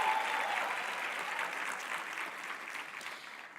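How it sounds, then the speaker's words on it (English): Conference audience applauding, a steady wash of many hands clapping at moderate distance, fairly quiet and even throughout with no speech. "So I feel that on its own requires some applause"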